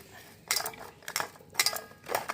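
A spoon scrapes and clinks in a bowl while gram flour is stirred into a mustard oil spice paste for fish, in four short bursts of close, scratchy mixing with no voices.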